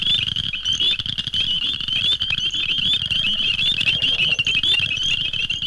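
Cricket frogs call en masse in a bog, recorded right among them: a dense, loud chorus of sharp clicking, rattling notes stacked over one another, continuous and uninterrupted.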